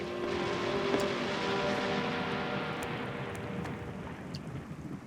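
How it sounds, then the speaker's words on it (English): A raging storm with rain and thunder in an animated series sets up a steady, dense roar of heavy rain that fills the whole stretch. Low rumbling sits underneath, with no separate sharp thunder crack. "Ready to do battle against this raging storm."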